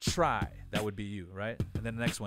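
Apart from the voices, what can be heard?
No distinct noise like a dog, phone or traffic.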